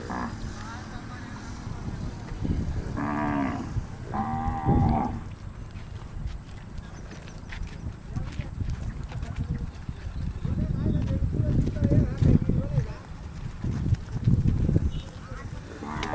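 Desi cows at a village dairy farm give several loud, drawn-out moos, the first pair early and more further off later, while people talk throughout.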